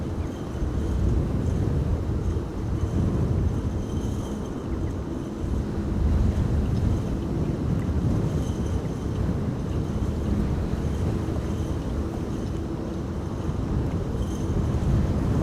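Strong gusts batter the microphone at Amsterdam Schiphol Airport during Storm Benjamin, a continuous loud, rumbling low roar of wind with a steady surging hiss and no voices.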